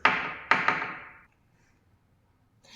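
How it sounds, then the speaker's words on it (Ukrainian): Knocking on a door in a room for a group of young children: three quick, hollow raps, the first two a half-second apart and the third close behind, each ringing briefly before quiet returns. "Але хтось стукає до нас."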